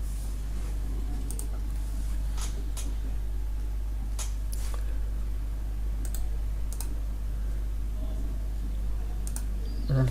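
Sparse, sharp clicks from a computer mouse during booking-calendar setup, a few scattered single taps over a steady low electrical hum, with faint typing-like ticks.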